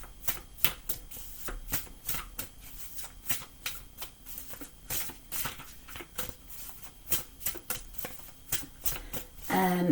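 Animal guidance oracle cards are shuffled by hand, a close, quiet series of papery riffles and taps in an uneven rhythm, with a brief voice just at the end.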